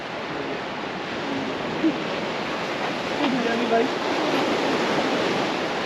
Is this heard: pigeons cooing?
no